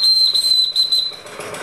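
A steam engine's whistle sounds as one loud, steady, high-pitched tone, held for just over a second before cutting off into a soft hiss.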